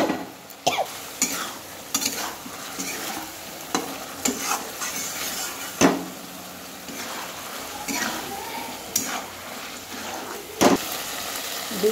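Eggs sizzle and fry in hot oil in a pan for a curry, with a steady crackle broken by sharp pops and stirring scrapes, close and fairly loud.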